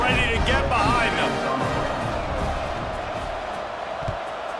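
Stadium crowd in the EA Sports College Football 26 video game, a steady loud roar with a brief swell of cheering near the start, while a broadcast-style commentator voice talks over it throughout.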